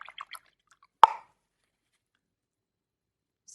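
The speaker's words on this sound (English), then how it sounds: "Rinse the brush off." A paintbrush is rinsed in water while watercolor painting with Twinkling H2O paints, giving a single short splashy drip near the middle, with faint small sounds before it and brief quiet stretches around.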